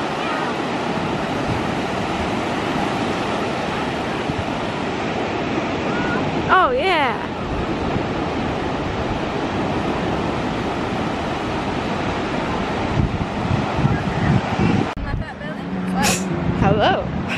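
Ocean waves at a beach, a steady loud wash of surf and rumbling wind buffeting the microphone, heard up close with a brief passing whistle-like sound partway through.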